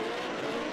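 A drift race car at Sydney Motorsport Park roars with a steady, loud engine and tire noise through a brief moment, with no one talking.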